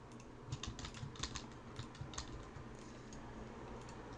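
Computer keyboard typing, faint and quick clacks in a short burst during a game engine blueprint editing session, then fading to quiet room hiss.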